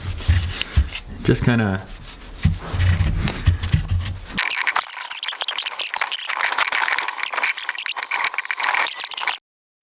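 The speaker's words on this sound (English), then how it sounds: "I'm gonna grab a trusty wire brush." Wire brush scrubbing a degreaser-soaked Pontiac V8 engine part, a steady raspy back-and-forth scraping that runs close and loud for most of the stretch, with a brief voice early on.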